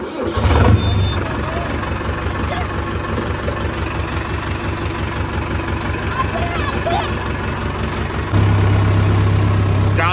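A farm tractor's diesel engine runs at a steady, loud idle with a low rumbling throb throughout, a brief surge near the start, while people talk over it.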